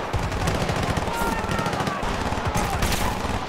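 Battlefield 2 video game combat, sustained overlapping automatic gunfire rattling continuously at close range, dense and loud throughout with no pauses.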